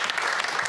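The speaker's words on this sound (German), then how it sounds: "bei dem kann man mal einen extra Applaus geben" Applause from a crowd at a Borussia Dortmund versus Atlético de Madrid Champions League football match, honouring a player: a brief, dense burst of steady clapping with no break.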